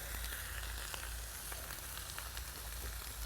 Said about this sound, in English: So here we've got crazy good pork tenderloin on the Disc It.